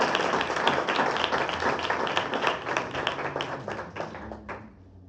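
A congregation at a church service breaks into sustained, dense clapping that holds steady before thinning out and fading near the end, with no voices on top.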